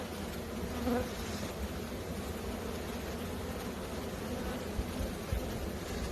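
Honey bees buzzing close around an open Michigan hive during spring hive reversal, a dense steady hum of many insects filling the whole stretch with no voices.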